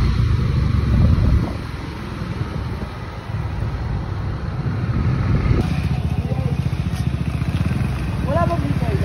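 A Honda Click motorcycle ridden at night through town streets toward a plaza, its engine droning steadily with road and wind rumble throughout, close to the microphone.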